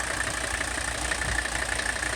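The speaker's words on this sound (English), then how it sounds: "It's running smoother than it had before." Mercedes OM617 diesel engine, recently running smoother after heavy shaking, idles steadily and close up with a continuous rough, clattering drone and no voices.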